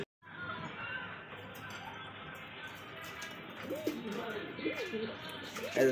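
Lahori pigeons cooing at a pigeon farm, soft repeated throaty coos and murmurs over a constant background hum, with a few brief knocks.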